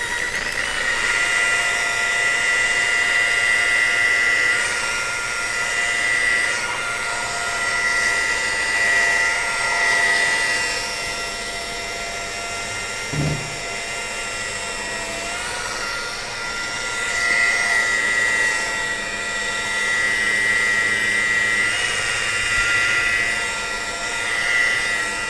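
An electric polishing machine buffs a car headlight during restoration, a loud, steady high whine running nearly the whole time with slight shifts in speed and a brief dip midway, close and alone.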